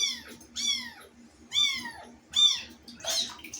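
A cat meows three times at even intervals, clear and close, each call a rising-falling wail, followed by a brief rustling noise.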